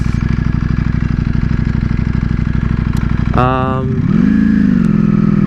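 A motorcycle engine runs loudly up close with a fast, steady putter, and someone speaks briefly over it near the end.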